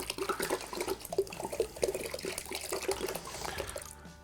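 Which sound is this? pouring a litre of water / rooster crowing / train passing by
pouring a litre of water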